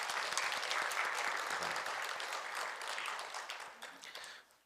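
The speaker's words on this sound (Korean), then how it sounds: "우리 박수 한 번 더 하겠습니다." A church congregation gives sustained applause for a choir, dense even clapping across the hall that holds steady and then tapers off at the end.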